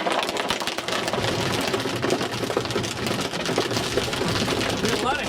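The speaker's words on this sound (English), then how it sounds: "There's a lot of hail going off here right now, and it sounds tremendous right now." Hail pounds down during a tornado-chasing storm, making a dense, steady rattle of countless impacts that sounds close and loud throughout.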